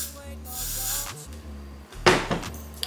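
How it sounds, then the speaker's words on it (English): Two short sprays of Got2b Glue hairspray hiss close by onto eyebrows, the second sharper and louder, with a faint voice murmuring in the background. "I spray Got2b glue on my eyebrows."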